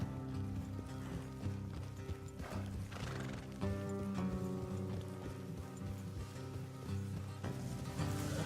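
Horses in Red Dead Redemption 2 shift and clop their hooves on a road, with a whinny rising amid steady game music and ambient layers, all quiet and fairly close.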